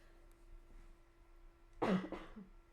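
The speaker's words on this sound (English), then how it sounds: "I'll have to cough." A single short cough breaks a quiet stretch, fairly faint and slightly distant, with a soft steady hum in the background.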